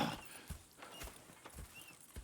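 Horses in the Red Dead Redemption 2 video game clip-clop in a faint, uneven series of hoof falls, with a soft neigh rising briefly among the steps.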